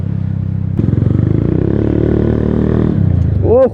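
A motorcycle engine drones close by, its pitch rising as it revs and speeds up, ending in a sharp whine as it pulls away.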